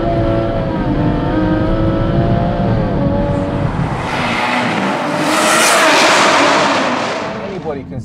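A heavily tuned 880bhp BMW M140i accelerates hard, its engine note rising and roaring loudly from close range, with rushing air and a whooshing blow-off toward the end; voices mingle beneath the engine.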